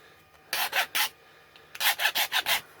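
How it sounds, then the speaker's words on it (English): A hand file rasps against the bottoms of cast metal hinges on a 7/8th scale model four-ton truck, cleaning off flashing. Two separate bursts of quick back-and-forth strokes, close and crisp, with no talk. "we grab our file, and we just give the bottoms of those hinges a kiss to get rid of any flashing"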